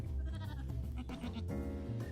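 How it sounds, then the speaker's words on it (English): Sheep bleat repeatedly in a continuous, fairly loud stretch, with wavering harmonic cries overlapping one another and no talk. "I hear sheep"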